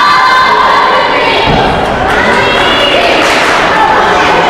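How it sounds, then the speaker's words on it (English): A loud, dense crowd in a gym chants and cheers for the Hornets at a high school volleyball match between Beekmantown and Plattsburgh, with voices rising in a rhythmic shouted chant that fills the whole moment. "It says "Go Hornets." I don't know if you can read that on the screen, but you can hear in the crowd."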